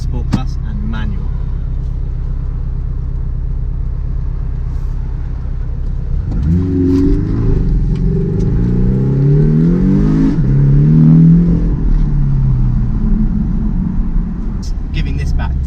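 A Porsche 718 Cayman S engine in Sport Plus idles low, then revs and accelerates hard through several rising gear pulls, loud and close inside the cabin, with a voice speaking over it.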